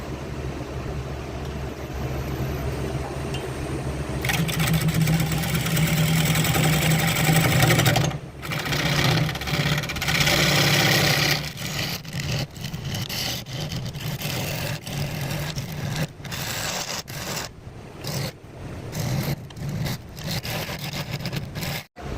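Wood lathe turning a plywood bowl, a steady motor hum overlaid by loud rough tool-cutting noise as the gouge bites, with intermittent pauses and bursts of scraping as the cut is adjusted.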